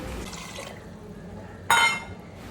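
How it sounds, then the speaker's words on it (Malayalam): Water poured into a pan of green peas curry with chopped green chillies, a brief close splash and trickle rising suddenly near the end over a quiet kitchen background. "ഇനിയിപ്പം നമുക്ക് ഇതിലേക്ക് കുറച്ച് വെള്ളം ഒഴിച്ച് കൊടുക്കണം"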